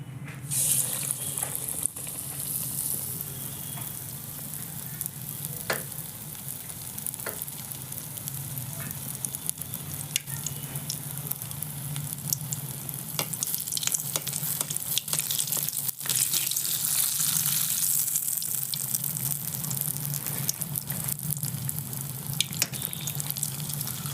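Batata vadas crackle and hiss as they deep-fry in hot oil, a dense, steady sizzle that stays fairly even throughout, close-up with occasional small clinks and no talking.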